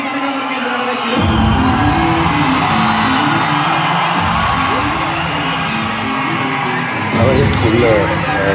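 A huge audience at the Parasakthi audio launch roars, cheers and whistles as Sivakarthikeyan enters the stage, a loud, continuous wall of crowd noise with shrill whistles and yells throughout.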